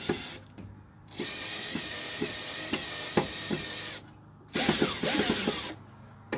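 Heavy-duty hand tools work stripped screws loose from an arcade machine, giving a run of sharp ratcheting clicks and metallic scrapes with short pauses, then a denser burst of rapid clicking near the end.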